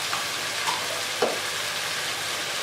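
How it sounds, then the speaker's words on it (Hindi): Chicken fries in a pan with red chilli, salt and black pepper for biryani, giving a soft, steady sizzle with a few faint stirring scrapes. The sound is quiet and close, with no talking. "अब हम इसको थोड़ी देर के लिए अच्छे तरीके से भून लेंगे।"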